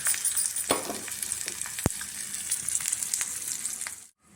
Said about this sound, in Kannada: ಮೆಣಸಿನ್ಕಾಯಿ ಬೆಳ್ಳುಳ್ಳಿ ಚಚ್ಚಿದ್ದೀನಿ ಕರಿಬೇವು ಹಾಕ್ತಾಯಿದ್ದೀನಿ ಇದೆಲ್ಲ ಸ್ವಲ್ಪ ಫ್ರೈ ಆಗಿ